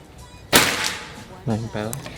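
One sharp shot from a PCP air rifle cracks out during long-range accuracy testing, then someone speaks briefly a moment later.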